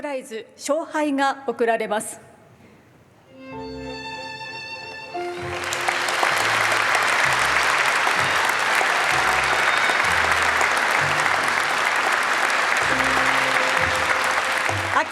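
Warm, sustained applause from a large audience fills the hall at the Japan Prize presentation ceremony, swelling loud and steady after a brief spoken introduction and a few musical tones.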